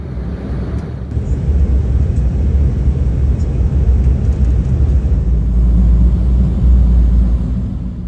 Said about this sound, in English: We're now landing into Zambia.